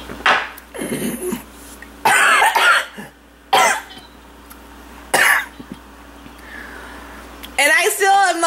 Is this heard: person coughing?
yes